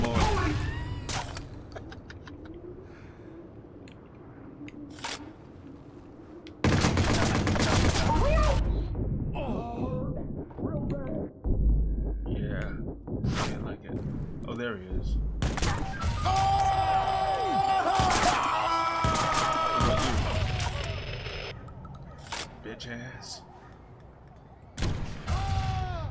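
Tommy gun fire in the Watch Dogs game: loud, heavy bursts and booming impacts break in abruptly and recur over the clip, mixed with crashes and game noise, with someone talking in places.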